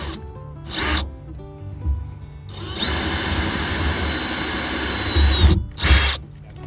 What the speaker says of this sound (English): then we're gonna drill a hole here, and then we'll put that in